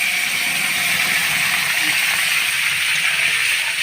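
Ripe papaya paste hitting a hot pan for papaya barfi gives a steady, dense sizzle that holds without a break, with no talk over it.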